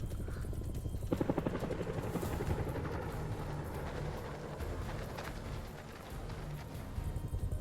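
Helicopter in the video game House of Ashes, a loud continuous rotor chop and engine roar that fills the whole stretch with a steady rapid beat.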